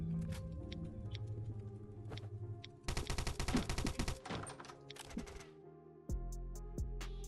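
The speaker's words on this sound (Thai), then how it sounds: "ยิงแรงจังอ่ะ" Gunfire in the survival shooter Last Island of Survival: a dense, rapid burst of shots fills the middle of the clip, and ongoing game sounds continue before and after it.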